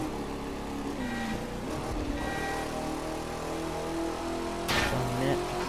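A car engine in The Crew 2 video game hums and revs steadily, shifting pitch as it accelerates, with a brief sharp knock near the end; a voice speaks faintly underneath.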